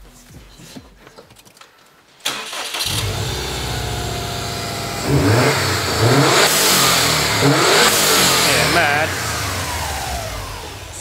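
Turbocharged Subaru STI engine revs hard several times close by, each rev followed by the sharp hiss of a GFB blow-off valve, with a brief remark spoken just before.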